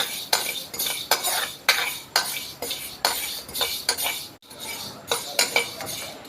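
A spoon scrapes and stirs fenugreek seeds dry-roasting in a metal pan, with rhythmic, close metallic scraping strokes about twice a second and a brief pause midway.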